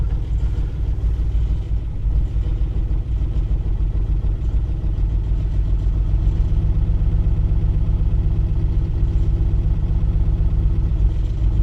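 A Mk1 Ford Granada engine idles steadily close by while reverse gear is being selected, a continuous low rumble with light mechanical clatter and no talking.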